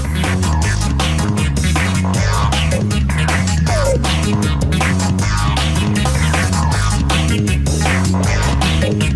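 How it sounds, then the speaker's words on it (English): A matchbook machine cutting matchstick strips into rows of ten and trimming covers to width, running loud and close as a dense rhythmic mechanical throb with rapid repeated clacks and a steady low hum. "It cuts the matchstick strips into rows of 10 matches each."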